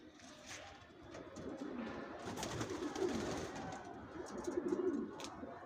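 Racer pigeons in a loft coo in soft, throaty, rolling calls that overlap and swell toward the end, heard close against a low background murmur with no talk.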